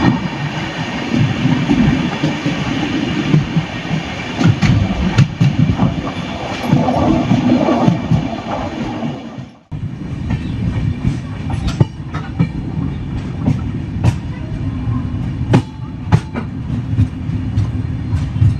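An express train on the Veraval to Thiruvananthapuram route runs at speed on rails, with a steady loud rumble and rhythmic clickety-clack of wheels over rail joints, briefly dipping near the middle before continuing.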